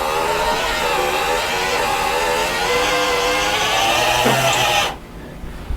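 A B-29 bomber's landing gear motor, restored and wired to a battery, drives the gear down with a steady, strained whine that runs for about five seconds and then cuts off abruptly, leaving quiet.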